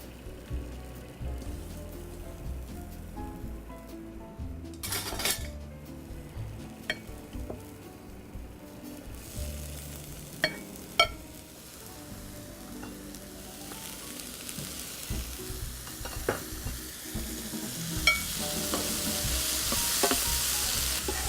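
Peas and onions sizzle steadily in a hot pan on a stovetop, with occasional stirring scrapes and clicks over a constant frying hiss that grows a bit brighter toward the end.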